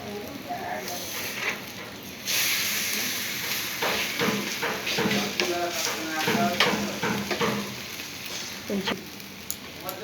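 Food frying in a little oil in a pan, a steady sizzling hiss with crackles and stirring or scraping under a person talking.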